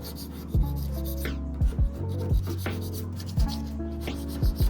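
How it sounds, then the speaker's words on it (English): An ordinary razor blade scraping excess putty off the damaged hood of a Chevy Cobalt before a carbon fiber wrap goes on, giving a steady close rasping with several sharp scrape strokes and clicks at irregular intervals. "use a razor blade. Normal razor blade, and just kind of like take off the excess."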